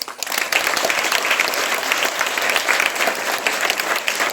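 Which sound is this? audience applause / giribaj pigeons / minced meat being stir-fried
audience applause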